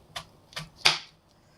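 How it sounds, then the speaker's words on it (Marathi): A kitchen knife slices through a head of cabbage, giving three crisp, crunchy cuts spaced about a third of a second apart, close and fairly quiet, with no talking. "आता ही पत्ताकोबी मी कट करून घेते"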